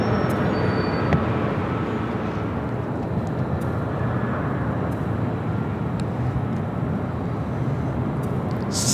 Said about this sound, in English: This is Ita, the A330neo.